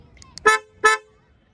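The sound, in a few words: Hyundai Creta horn sounding on lock and unlock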